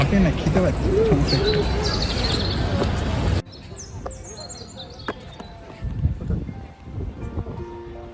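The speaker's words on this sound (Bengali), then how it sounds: "পাখির কিচিমিচি শব্দটা শুনতে" Birds chirp and tweet in the open, with soft cooing; loud voices talk over the first part before it turns quieter with scattered calls.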